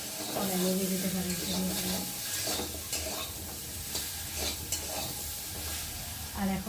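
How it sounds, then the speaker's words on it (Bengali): Water spinach curry stirred in a cooking pan: close sizzling and bubbling with repeated scraping and stirring strokes. A brief voice hums faintly near the start. "খুলে একটু নেড়ে দেবো।"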